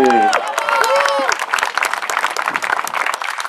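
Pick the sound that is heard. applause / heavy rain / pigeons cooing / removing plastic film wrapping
applause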